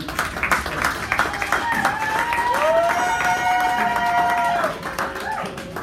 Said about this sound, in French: M. Roch Piana, si on peut applaudir pour lui.